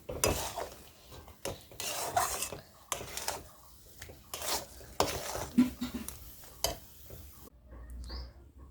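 Taro leaves fry in a pan with a soft sizzle under irregular scraping and clinking of a utensil against metal, bursts of stirring coming and going before quieter pauses near the end.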